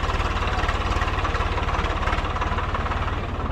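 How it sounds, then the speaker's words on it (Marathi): A water tanker tractor engine running at a pilgrimage camp site, a steady low rhythmic diesel chug with a dense mechanical rattle, close and continuous without talk. "पाण्याचं ट्रॅक्टर येते"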